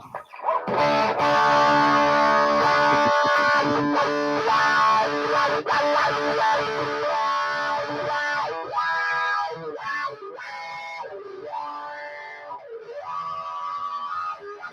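Electric guitar played through an effects pedal for a signature style tone, loud distorted sustained notes with warbling, swooping pitch bends and chorus-like wobble, continuous and close for the whole stretch, with no talk.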